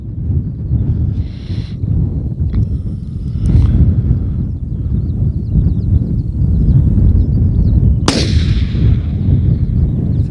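A sharp long-range rifle shot cracks at about eight seconds, fired at a 911-metre target, with a trailing echo, over steady wind buffeting and outdoor rumble.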